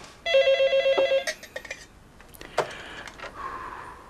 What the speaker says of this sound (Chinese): 是李大伟的电话